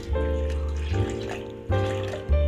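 Water pours in short bursts into a mixer jar, splashing and gurgling at close range, with brief pauses between pours.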